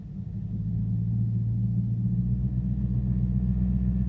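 Steady low exhaust drone and buzz from an Infiniti with a sport muffler, held in gear at about 1000 RPM under light throttle, rising in the first half second then humming evenly and close.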